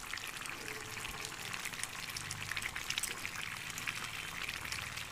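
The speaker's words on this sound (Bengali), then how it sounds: "এখন আমরা এর মধ্যে পালং শাক বাটাটা দিয়ে দেব।" Ground spinach paste is added to partly cooked chicken in a pan, making a soft, continuous wet pouring and squelching sound, quiet and without speech.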